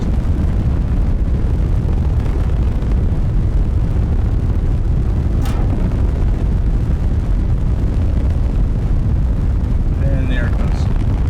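A video game rocket engine roars at full throttle while losing thrust, a steady dense broadband rumble and hiss that holds loud throughout with a faint high whine near the end, under a voice talking.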